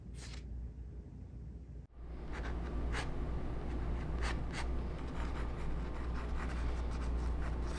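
A pencil makes angled shading marks on paper in a close, steady scratchy rasp, with repeated strokes continuing after a brief pause.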